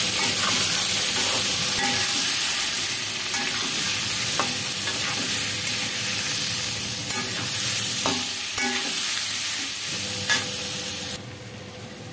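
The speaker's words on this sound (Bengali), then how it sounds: "আলু পেঁপেটা ভাজা হয়ে গিয়েছে" Potato and papaya pieces fry in oil with turmeric and salt, a loud continuous sizzle close up, broken by occasional scrapes and clinks of stirring, with no talking.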